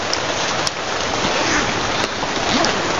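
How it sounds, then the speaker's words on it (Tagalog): Heavy rain pours steadily in a dense, loud hiss, with a few sharp clicks breaking through now and then. "sobrang ulan dito no"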